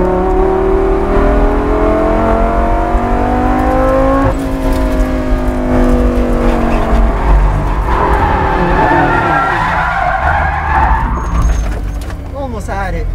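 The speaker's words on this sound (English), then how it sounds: "We end up spinning out, but it's all good." Lamborghini Gallardo GT race car spinning out on a track at Las Vegas, engine note rising then falling as tires squeal loudly, with a person talking over it.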